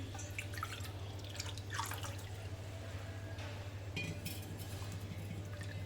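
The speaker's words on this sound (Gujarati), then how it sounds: "તો હવે આપણે એ જ વાડકી 2 વાડકી પાણી લઈ લઈશું।" Water poured over washed urad dal in a bowl, with a light, steady trickle and drip under a constant low hum.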